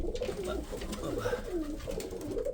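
Soft, repeated dove cooing in low rolling phrases, fairly close, over a steady background murmur.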